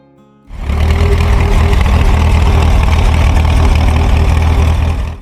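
Allis-Chalmers WD tractor engine idling, a low, steady rumbling throb that starts abruptly after a quiet moment and then holds at an even level until it fades at the very end.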